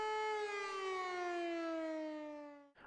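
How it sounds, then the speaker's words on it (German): An E57 civil defense siren sounds during a test on Germany's national warning day, a loud, steady electromechanical wail heard alone that slowly falls in pitch as it winds down near the end. "In diesem Video seht ihr die am Warntag aufgenommene Sirenenprobe"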